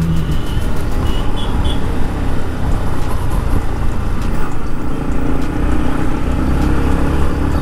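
Steady engine drone and wind roar from a Yamaha MT15 motorcycle being ridden, loud and close throughout with no voices and only slight shifts in tone.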